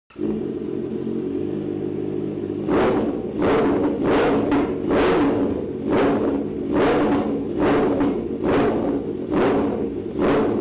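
Kawasaki ZX-4R motorcycle with an aftermarket exhaust starts up, settling into a steady near idle rumble before a series of about eight sharp, regularly spaced revs blips out loud over the running engine.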